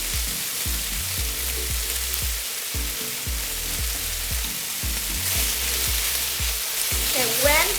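Sweet pepper stir-fried with pork belly for drunken noodles, with a steady loud sizzle and a rhythmic scrape of stirring that repeats throughout.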